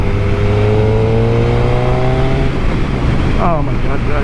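A Suzuki Hayabusa sport motorcycle is ridden with its engine holding a loud, steady drone that climbs gradually in pitch, then drops and surges again near the end as the rider shifts, heard up close with strong wind rush.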